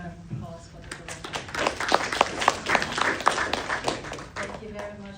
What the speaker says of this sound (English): I have another round of applause for the director.